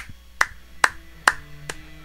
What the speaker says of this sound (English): I've got to give them a clap right now.